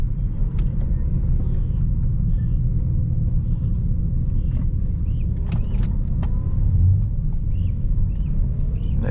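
A 6-speed Nissan Altima drives over a bumpy road, with a constant loud low rumble of engine and tyres heard from inside the cabin, plus scattered faint clicks and rattles.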